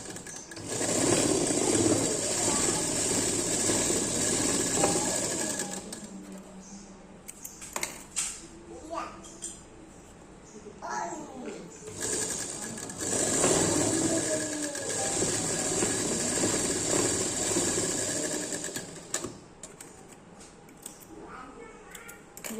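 Sewing machine stitching seams on a Patiala pant, running in two long steady bursts with a pause between them, close and fairly loud with brief handling noises in the gap.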